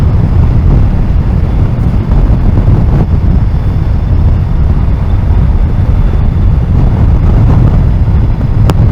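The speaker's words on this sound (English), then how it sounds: "Well, it's quite windy up here." Strong wind buffets the microphone in a continuous low roar, loud and unbroken throughout, with no voices, on an exposed upland road in the North Pennines with snow poles.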